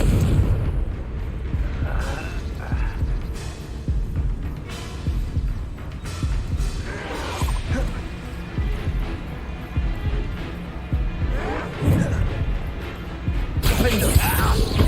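Bombarda and Confringo spell explosions in the video game Hogwarts Legacy, a run of heavy booming blasts and rumbling impacts over about fifteen seconds, mixed with game sounds and voices shouting.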